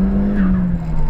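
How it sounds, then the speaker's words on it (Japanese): A Nissan Silvia S15 drifting, with a loud sustained tire squeal over a steady engine drone, close and continuous for about a second. "じゃあドリフトみたいな入りしてドリフトすればいいんですよね"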